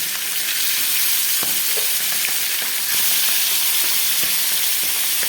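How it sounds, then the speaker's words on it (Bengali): Steady, bright sizzling of chara fish, coated in salt and turmeric, frying in hot oil, crackling and spitting continuously without any talking. "মাছটাকে ভাজা বসিয়ে দিলাম"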